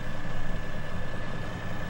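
A big John Deere tractor engine idles in Farming Simulator 2015, a steady, close, low rumble throughout with no talk.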